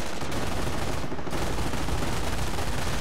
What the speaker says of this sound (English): I do think the American machine gun doesn't ever sound as good as the MG42